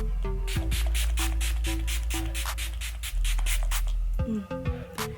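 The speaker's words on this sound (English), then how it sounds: "I'm just going to take it and spray all over my face." A rapid series of short, close spray bursts of facial primer mist onto a face, about a dozen quick pumps in a row, with a low steady hum in the background.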